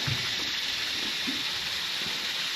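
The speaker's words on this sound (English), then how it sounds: "If you ever need water, coming off the island from the rains, fresh water." Fresh rainwater running off Fraser Island in the Great Sandy Strait, a steady close rush and gurgle of flowing water, heard alone.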